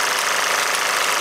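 Mamod SE2 and SE3 model steam engines run together outdoors in strong sunlight, giving a steady, close, continuous hiss and rapid mechanical chatter with no pauses and no voices.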